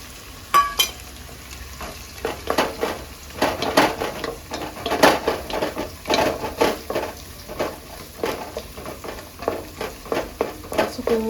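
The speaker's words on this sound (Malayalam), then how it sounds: "കൂടുതൽ എണ്ണയിൽ തന്നെ വഴറ്റണം" Ginger sautéing in plenty of hot oil for pickle sizzles steadily, while a spoon scrapes and stirs through it in irregular bursts, close up and fairly loud, with no talking.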